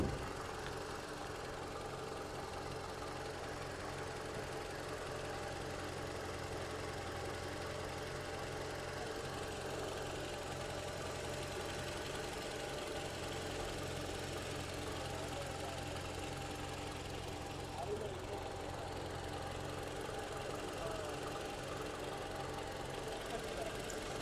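Engine of a 2015 Toyota Camry idling, a steady low rumble with a faint knocking tick, heard close and continuous for the whole stretch.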